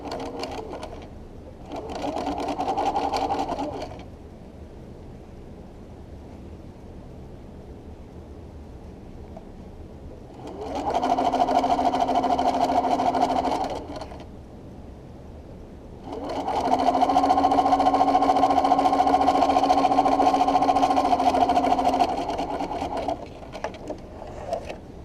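A sewing machine top stitches a seam sample with a back stitch at both ends, running in three separate bursts, short, medium and longest, each a steady close hum with quiet pauses between.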